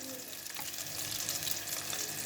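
Stuffed chilli pakoras, green chillies filled with potato and dipped in batter, frying in hot oil with a steady, dense bubbling sizzle, close and even throughout with no talk.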